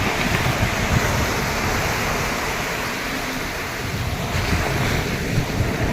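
Waves wash onto the shore at Benaulim Beach in South Goa, making a continuous broad rush of surf. Steady wind buffets the microphone, and no one speaks.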